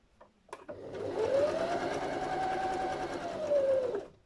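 A sewing machine back stitches on a zipper bag, starting after a few clicks with a rising hum that settles into a steady, close mechanical whir before winding down.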